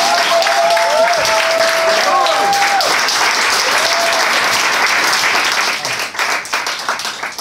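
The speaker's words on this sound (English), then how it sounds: "Can we just have another round of applause for Chairman Uhuru?" An audience breaks into sustained applause for Chairman Uhuru at a political solidarity movement event, dense clapping that stays loud and steady before thinning out near the end, with a voice heard briefly over it.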